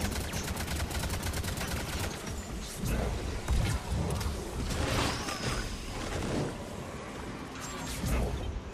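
Gunfire in Mass Effect 3 multiplayer, a steady dense clatter of rapid weapon fire with bursts and impacts filling the whole stretch, loud and continuous with a game-action mix behind it.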